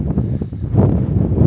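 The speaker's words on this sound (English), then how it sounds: "It's really windy. We're having 40-mile-an-hour gusts." Gusty desert wind pounds the microphone in a loud, low, rumbling burst that surges and swells without letup.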